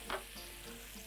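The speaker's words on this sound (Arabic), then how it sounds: "الزبده هتسيح على طول لان انا اصلا" Butter hitting a well-heated pan and melting with a soft, steady sizzle, faint and close, with one brief clink at the start and no talking.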